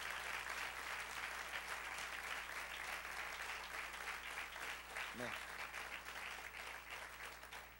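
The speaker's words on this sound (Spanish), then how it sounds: "Dale un aplauso al Señor." A church congregation applauds during a Spanish-language sermon, with a steady wash of clapping that sounds somewhat distant and fills the whole stretch.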